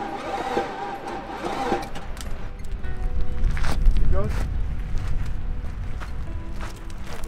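A broken-down Porsche Cayenne's engine cranks and sputters during an off-road recovery, water in it, while people talk over it, the motor rumbling briefly before it dies down.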